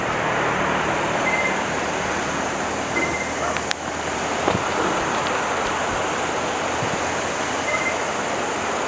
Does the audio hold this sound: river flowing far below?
yes